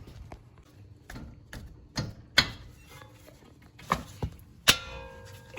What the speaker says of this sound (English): you're gonna use a size 7 Allen key in there, and that's gonna be able to remove the caliper